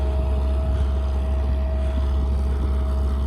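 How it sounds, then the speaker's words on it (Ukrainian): A Hermes DBG-2.1 disc harrow with an experimental roller starts working behind a tractor, giving a steady, loud, low machinery drone with a constant hum that runs throughout without a break. "запускаємо в роботу диски від компанії Hermes"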